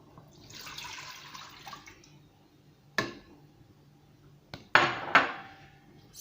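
About 420 ml of water runs and splashes into a pot for a couple of seconds, for profiterole dough, followed by a few clanks of metal cookware being set down nearby.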